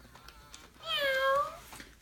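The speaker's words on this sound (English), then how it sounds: "This is the orange one meowing or purring now." A Hasbro Joy for All robotic toy cat, orange, gives a single drawn-out electronic meow, close and clear against a quiet room.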